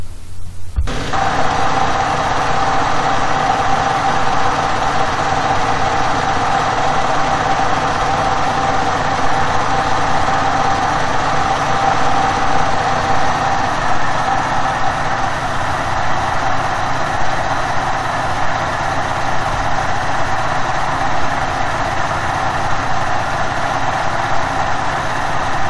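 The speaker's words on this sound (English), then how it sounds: "It's just old generator, but it still gives light because it has the capacity to do that." An old generator engine, converted from a peanut machine, runs steadily at idle with a loud, continuous mechanical drone and hum that starts abruptly and holds constant throughout.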